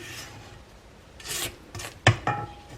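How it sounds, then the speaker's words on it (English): A spatula scrapes chocolate chip cookie dough down the sides of a mixer bowl in a few short, rasping strokes, the last ones sharper and louder, with no talking. "we'll just scrape everything down in there"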